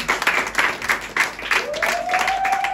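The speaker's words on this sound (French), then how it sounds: "Est-ce qu'on peut acclamer le Seigneur très fort?" A church congregation applauding together, a brief burst of rhythmic clapping in the room with a sustained tone rising underneath.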